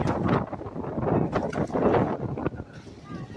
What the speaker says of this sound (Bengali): এত বাতাস